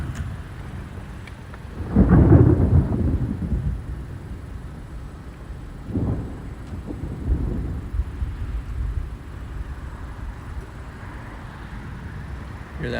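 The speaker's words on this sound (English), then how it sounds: "Hear that lightning, the thunder?" Thunder rumbles during a Missouri storm: one loud, deep roll near the start, then weaker rumbles that fade into steady wind and rain noise.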